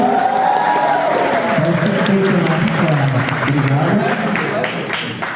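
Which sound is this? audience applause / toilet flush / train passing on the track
audience applause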